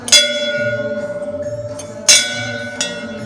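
A temple bell rings out with a sharp metallic strike, its tone ringing on, then struck again about two seconds later and once more faintly, in a reverberant space.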